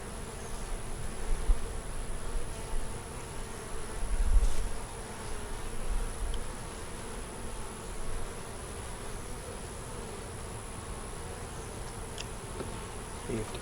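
Honey bees buzz steadily throughout an open brood box inspection, a dense droning hum that swells briefly and sometimes comes close as individual bees pass.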